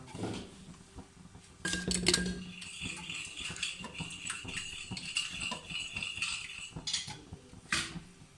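A spoon stirs masala and rice in a clay pot for chicken matka biryani, giving close clinks, rattles and scrapes against the pot that carry on fairly steadily, with no talking.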